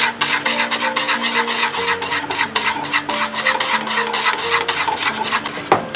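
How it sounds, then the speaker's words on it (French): A whisk beating milk in a pot as it thickens into pastry cream, rapid continuous metallic scraping and clicking strokes, close and fairly loud, with a steady hum underneath. "Je continue à mélanger jusqu'à ce que notre lait devienne pâteux."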